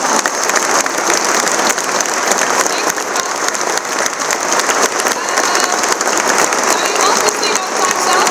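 A conference audience applauds after a talk on climate change and innovation, a loud, dense, sustained round of clapping from a large crowd that holds steady for the whole stretch.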